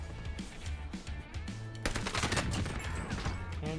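Rapid STG 44 assault rifle fire in Warzone, sustained bursts with a denser, louder stretch in the second half over background game noise.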